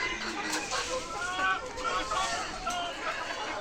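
Hill chickens, a rooster and hens on a farm, cluck steadily at close range against a busy background of murmuring voices.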